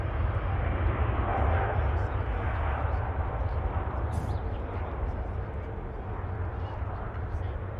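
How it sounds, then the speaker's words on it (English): A Cathay Pacific Airbus A380 departs Manchester Airport with a loud, steady jet roar that fills the whole stretch, and faint voices sit underneath. "Make a departure there of the Cathay Pacific A380, heading off to Hong Kong"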